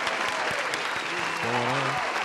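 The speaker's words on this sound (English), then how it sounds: "let's give a round of applause for our special guest, Kumi." Audience applause for a special guest at a live interview and music set, a steady wash of clapping throughout with a brief sustained tone rising underneath near the end.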